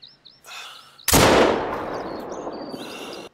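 A shotgun loaded with buckshot fires once at a lynx in The Hunter: Call of the Wild on Revontuli Coast: a single loud, close blast with a long fading tail. Faint birdsong chirps before and after.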